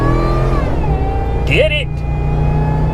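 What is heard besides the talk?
supercharged car engine revving on highway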